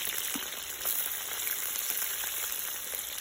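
Meat frying for plov gives off a steady, dense sizzle with fine crackling spatter, close and continuous throughout, with no voices.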